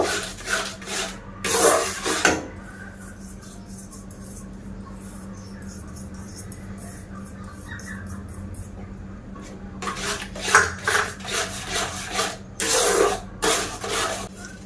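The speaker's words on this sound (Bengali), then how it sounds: "এবার গুঁড়ো দুধগুলো দিয়ে দেব, দিয়ে ভালো করে নেড়ে দেব।" Milk powder stirred with a spoon into a semolina mixture for chomchom sweets in a pan, giving a scraping, rubbing sound in bursts with a quieter stretch in between, close up and with no talk.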